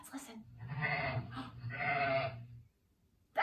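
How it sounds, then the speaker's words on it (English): A sheep bleats in two long, wavering calls, fairly loud and close, followed by a short silence and the start of a voice. "That's a sheep."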